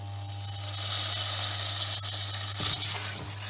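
Butter sizzles and melts in a hot pot at the start of a wild garlic soup, a steady bright hissing crackle up close with a low electrical hum beneath.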